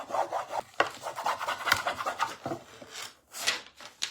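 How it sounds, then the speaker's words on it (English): A rub-on transfer being burnished onto a craft surface, giving repeated scratchy rasping strokes in an uneven rhythm, close up and fairly quiet with short pauses between passes. "So just keep on rubbing."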